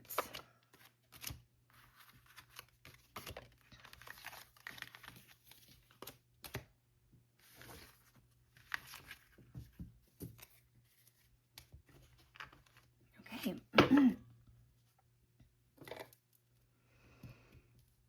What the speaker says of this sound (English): Cleaning up the cards